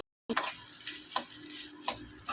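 Spatula scraping and stirring egg fried rice in a hot pan, with a steady sizzle underneath and a few sharper scrapes standing out, close and moderately loud.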